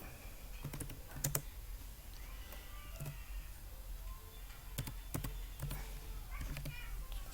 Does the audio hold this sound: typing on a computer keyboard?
yes